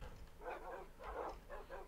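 Tamed wolves in the Minecraft video game barking and yipping in several short bursts, moderately close, with no talking.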